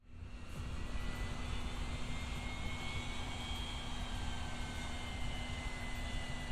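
Air Force jet aircraft in the Yakuza 3 video game, a steady loud engine roar that holds evenly throughout, with a sustained high whine above a low rumbling drone.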